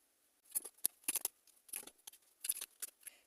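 Tarot cards being shuffled and drawn, a dry papery flutter of quick brushing and snapping bursts in a close, quiet room, several clustered flicks followed by a few separate card snaps.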